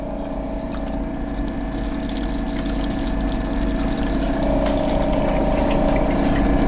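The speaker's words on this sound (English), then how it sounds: "You can see this hose is pouring out the ethanol." Ethanol pours out of a hose from a rotary evaporator flask, a steady, close rush of liquid over a continuous low mechanical hum that grows slightly louder throughout.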